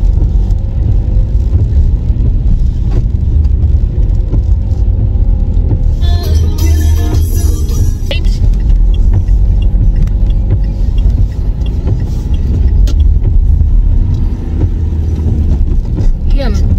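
Car driving in the rain near a school zone: a loud, constant low engine and road rumble inside the cabin, with a brief rattling burst partway through.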